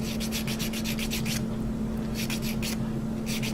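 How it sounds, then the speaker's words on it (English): Rapid back-and-forth rasping strokes of a sanding stick, close up, in bursts with brief pauses, over a constant low electrical hum. "Now you want to be careful when you're sanding this"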